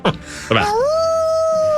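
Howl sound effect played on a sports radio show: two short yelping barks, then a loud, clear, sustained dog-like howl with a slowly bending pitch.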